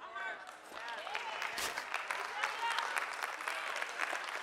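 A church audience claps steadily for several seconds, a moderately loud spread of hand claps from many people, with voices and a few cheers mixed in.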